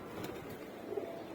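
Pigeons kept in a home loft, one of them sick, cooing softly. A few low, rolling coos rise over a quiet background, faint and close, with no voices.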